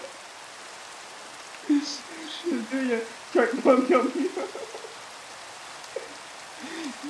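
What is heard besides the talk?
rain falling in Minecraft video game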